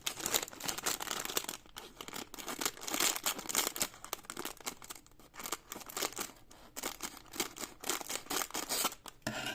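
Scissors snipping and crinkling through plastic Lego set packaging, a dense run of close rustling, crackling cuts and tearing plastic that carries on steadily without talk.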